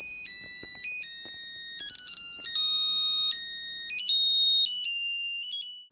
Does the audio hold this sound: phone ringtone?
yes